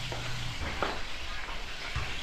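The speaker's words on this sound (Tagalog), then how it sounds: "So bago po matapos yung piniprito mo, sigurado ikaw na nagpiprito, crispy na." Food sizzles and crackles steadily in a hot pan, with a few soft clinks of a utensil stirring; no voices.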